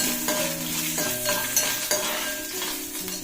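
Coconut pieces dropped into a pan of frying pork: a few sharp scrapes and clatters of a spoon against the pan over a constant sizzle, close and brief, with no speech.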